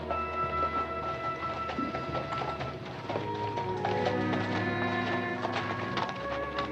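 A horse's hooves clip-clop as a rider arrives carrying a person slung across the saddle, the steady hoofbeats set against a busy outdoor backdrop.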